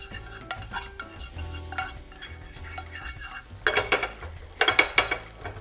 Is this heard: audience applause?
no